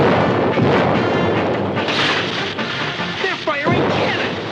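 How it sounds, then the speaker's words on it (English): Loud ship's cannon fire in a Batman-and-Joker pirate scene, rolling booms and rumbling blasts layered densely with crashing noise over several seconds, close and continuous, with voices faintly mixed in. "They're firing cannon!"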